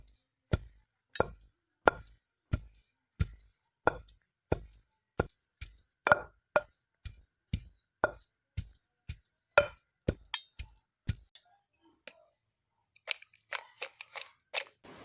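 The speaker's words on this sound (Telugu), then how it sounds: "బెల్లం వేసి నువ్వులు బెల్లము రెండూ కలిసిపోయే విధంగా రోకలితో దంచుకోవాలి." A pestle pounds sesame seeds in a mortar, giving about twenty evenly spaced, close thuds with a crunchy edge. A pause follows, then lighter scraping and tapping.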